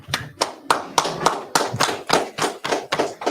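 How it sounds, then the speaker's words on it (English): A Sabbath service congregation claps together in a loose, steady rhythm of about a dozen loud, close claps, with no talking over them. "clap it up"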